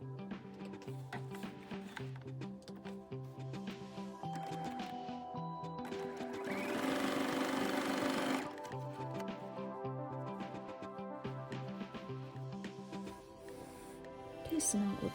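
A sewing machine runs a quarter-inch seam, its steady mechanical stitching rising into a denser, faster burst midway, heard under someone talking over much of the clip.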